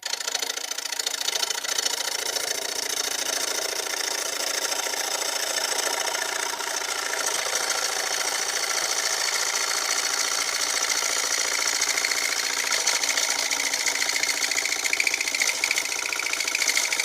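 A wood lathe turning a black walnut bowl runs at speed, giving a steady, continuous hissing whine with a grinding edge that holds evenly throughout, close and fairly loud with no talk.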